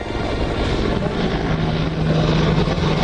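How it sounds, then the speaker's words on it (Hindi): A US-built military attack helicopter armed with an M230 chain gun, deployed along the LAC, flies overhead with a loud, steady rotor and engine roar that stays constant throughout, with no voices. "अमेरिका से खरीदे गए इस हेलीकॉप्टर को हाल ही में LAC पर तैनात किया गया है"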